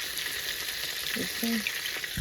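A perch fillet fries in a pan, giving a steady, close hiss and crackle of hot oil throughout, with a faint tonal sound briefly showing through.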